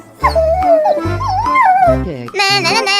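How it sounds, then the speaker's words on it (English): Cartoon dog from a children's animal animation, voiced with whimpering, howling yips that slide up and down in pitch over a bouncy low musical accompaniment, ending on a higher sustained note. "dog,"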